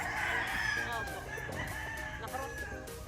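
A Gustavo sweater gamefowl rooster on a game farm crows loudly and close, one long drawn-out call over low background farm noise.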